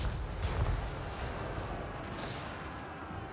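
Artillery bombardment in Total War Warhammer 3, with heavy low rumbling booms striking friendly units, a sharp burst near the start followed by a continuous dense roar of explosions.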